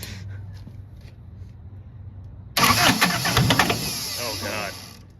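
Diesel engine swapped into a Triumph Spitfire, with the timing off, cranks and catches after a quiet stretch, then runs loud, rough and clanky. Voices talk over it while it idles.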